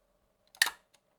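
Mirror lock-up on a Rollei SL66 medium format camera gives one sharp, close mechanical clack, with a faint tick just before and a small click after, in an otherwise quiet room.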